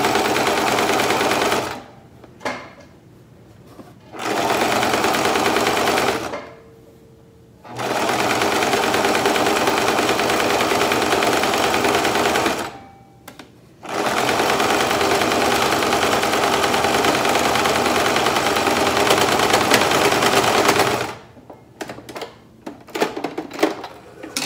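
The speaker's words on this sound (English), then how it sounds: "just so I can sew evenly" A sewing machine stitches fabric for a handmade mask with ties, running loud and close in several long continuous bursts separated by brief pauses.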